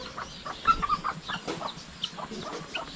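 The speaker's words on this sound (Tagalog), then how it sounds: "Marami naman tayong mga sisiw dyan." Chicks peep and cheep softly in quick, irregular bursts at a poultry yard, with clucking fowl mixed in close by.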